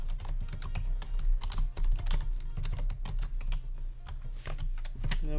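Rapid, steady keystrokes on a Compaq laptop keyboard as a password is entered, close and clear, with a constant low hum underneath and no talking.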